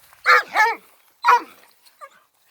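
Close dog barks, two quick ones and then a third, followed by a faint, short whimper.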